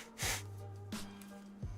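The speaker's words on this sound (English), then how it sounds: "Excuse me while I do this, and while I blow my nose" A man blows his nose in a few short, breathy snorting bursts over a steady background drone, close to the microphone, with no talking.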